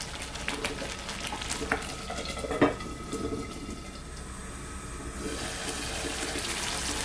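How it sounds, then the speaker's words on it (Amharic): Butter melts and sizzles in a pot while Ethiopian shiro cooks, a soft steady crackling hiss with scattered clicks and a stirring scrape, faint and continuous without speech. "ቅቤያችንን ቅልጥ እናረጋለን በቃ እንደዚህ ትክትክ ይላል"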